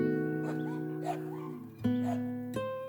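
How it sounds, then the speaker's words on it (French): Hairless Mexican Xoloitzcuintle dogs roaming in Mexico, with a sustained whining, howling cry and short yips rising and falling nearby, fairly loud and alone. "Quelques chiens sans poils traînent ici et là."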